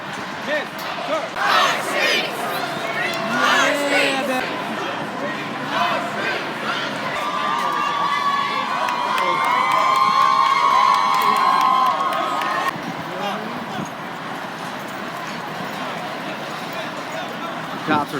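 A protest crowd of thousands surges forward with continuous shouting, cheering and raised voices that swell to a loud peak midway before thinning slightly, with people talking nearby throughout.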